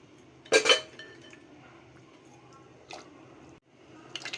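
Pieces of carp slide one at a time into a pot of boiling Tamil fish curry, giving a soft splash and clink against the pan, with a quieter plop later over a faint bubbling background.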